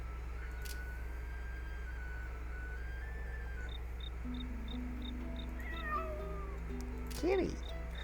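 A cat meows twice, with a short call mid-clip and a louder, closer yowl near the end, over a steady low hum with faint beeping and quiet background chatter.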